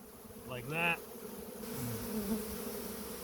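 Honey bees swarm and buzz at a hive entrance in a steady, close droning hum, with a person briefly speaking over it early on.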